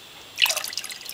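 Liquid dye poured from a cup into a dye pot for yarn, a brief close splash and trickle starting suddenly and tapering off into dribbles, heard alone.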